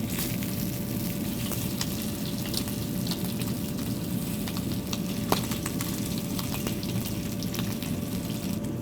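Pork belly sears in a pan for red-braised pork, its rendered fat giving a steady, close sizzle with scattered sharp pops and a faint constant hum beneath.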